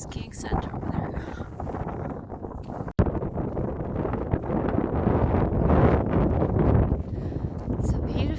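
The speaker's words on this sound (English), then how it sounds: "Feels like 5 degrees, cold wind, still a bit of rain." Cold wind buffets the microphone on a wet August hillwalk in Scotland's Northern Corries, a steady rough roar throughout with a brief dropout near the three-second mark and no speech.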